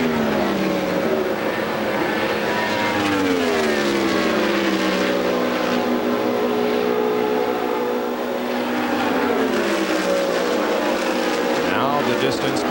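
An Indy race car at the 1999 Indianapolis 500 screams down the straightaway, its engine note rising and falling in loud sweeping pitch, with a commentator talking over it.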